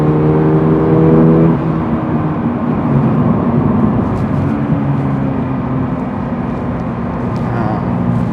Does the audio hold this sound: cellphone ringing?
no